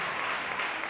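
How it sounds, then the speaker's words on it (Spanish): Spectators at a football match between Algeciras C.F. and C.D. Alcalá applaud a substituted player, a steady wash of distant crowd clapping that holds at an even level throughout. "Aplausos"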